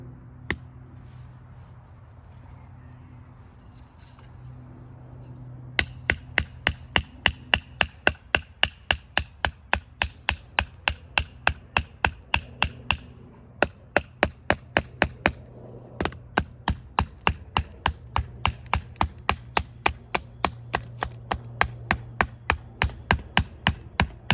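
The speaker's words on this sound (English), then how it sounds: "I'm not big on batoning, but I know somebody's gonna wanna see this." A Kepper 5 bushcraft knife from SlicKnives is batoned through small firewood: after a quiet start, dozens of sharp wooden knocks land in a steady, fast rhythm, loud and close with no voices.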